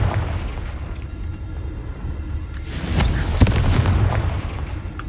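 Repeated Confringo fire-spell explosions in Hogwarts Legacy give a continuous low rumble, with a sharper crack and heavier boom arriving midway.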